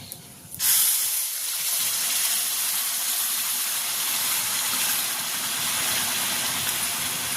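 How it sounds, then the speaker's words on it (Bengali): Sugar syrup hits hot fried spices in a pan for sweet jujube pickle, starting with a sudden loud hiss that settles into a continuous steady sizzle with no voices. "আমি চিনির রসটা আগে থাকতে করে রেখেছিলাম, ওইটা এর মধ্যে দিয়ে দেব"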